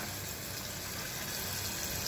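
Ginger-garlic paste and green chilli go into a frying mutton masala with yogurt, giving a steady, moderate sizzle that ends in a sudden sharper crackle as the paste hits the hot pan.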